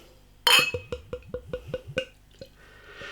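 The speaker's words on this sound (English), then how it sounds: "Beer in the glass then." Anarchy Brew Co Hard Times Porter, a 4.3% ABV beer, glugs from the bottle into a glass in a quick run of gurgling pulses after an opening splash, close up with no talking.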